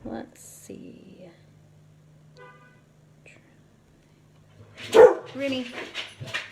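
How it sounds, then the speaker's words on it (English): A dog barks sharply a few times at moderate distance, followed by a burst of louder barking near the end amid quiet background. "That's my dog."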